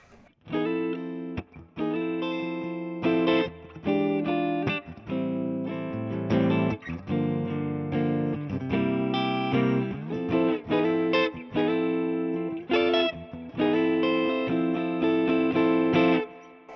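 A PRS Private Stock Hollowbody II electric guitar with a warm, round neck humbucker tone, controls full up, playing sustained chords and melodic lines, clean and full, alone without talk.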